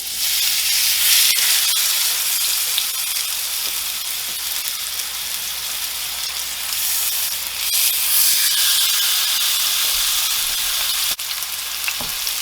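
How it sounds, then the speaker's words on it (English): Bone-in pork chops sizzle steadily in a hot cast iron pan, a bright continuous crackling hiss with occasional sharper pops, close and loud, no talking. "Gotta love that sizzle."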